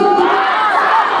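A large concert crowd chants the singer's name in unison, a loud, sustained massed roar of voices close and continuous throughout.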